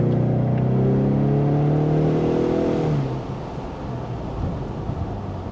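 A base Ford Mustang's engine roars and climbs in pitch under hard acceleration, loud exhaust droning near, then settling into a rougher rumble.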